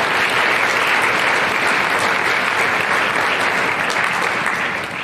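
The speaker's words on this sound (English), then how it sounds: "So if we could please give them a round of applause as well." Loud, dense applause from a school concert audience for a high school band program, continuous clapping at full strength for the whole stretch, easing only slightly at the very end.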